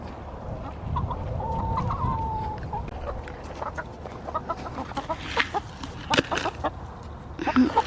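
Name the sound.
hens clucking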